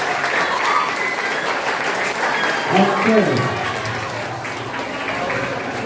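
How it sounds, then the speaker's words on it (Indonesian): Audience applause fills a school orientation presentation, a steady wash of clapping throughout while a voice speaks briefly over it. "Tepuk tangan semua yang ada di sini."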